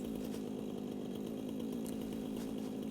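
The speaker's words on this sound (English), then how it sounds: "whether or not I can actually chainsaw these" A chainsaw drones steadily while cutting trees in the video game Satisfactory, a continuous, fairly quiet buzzing motor sound with no talking over it.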